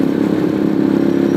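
Steady, close motorcycle engine drone while a bike is ridden, a continuous mid-pitched hum with a slight rise near the end and no talking.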